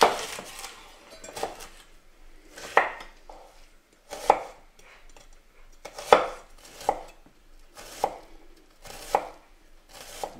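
A Roscoff onion being chopped with a knife on a board, about a dozen sharp, close knocks at an uneven, unhurried pace with quiet gaps between, no talk.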